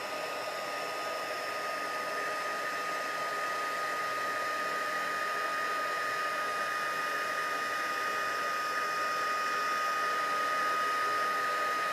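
A heat tool blows hot air steadily to set embossing powder on a card, giving a loud, constant whirring hiss that holds level from start to finish with no talking.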